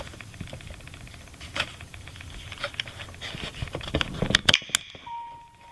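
A Nintendo Switch Joy-Con controller slides onto the console with a burst of small plastic clicks and rattles building toward a sharp final snap, up close.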